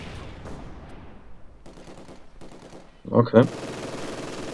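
Gunfire bursts from the strategy game Company of Heroes 2, a quiet scattered rattle under talk that swells into two loud, close cracking volleys near the end; a brief spoken word sits just before them.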